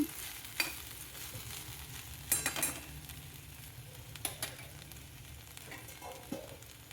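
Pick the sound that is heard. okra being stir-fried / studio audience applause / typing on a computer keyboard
okra being stir-fried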